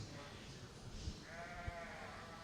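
Corriedale yearling ewes bleat at a sheep show, a faint wavering bleat rising above a low crowd murmur and background noise.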